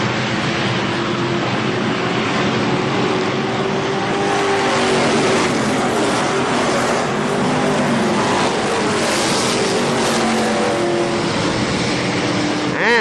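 A pack of twenty race cars roars steadily and loudly at Kil-Kare Speedway in a 15-lap feature in 1998, the dense engine noise holding unbroken throughout.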